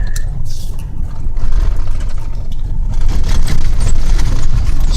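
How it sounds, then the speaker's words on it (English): A 1997 Dodge Ram 1500 pickup truck engine runs steadily while driving on a bumpy road, a continuous low rumble with road noise that swells slightly near the end. "This truck runs awesome."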